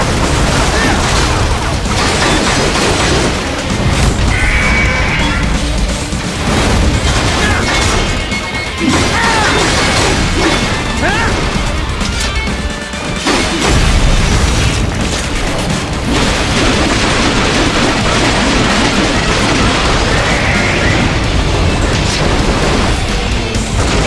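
Relentless heavy combat in Metal Gear Rising Revengeance: blaster cannon blasts, crashes and impacts pile up loud and dense for the whole stretch, with scattered game voices mixed in.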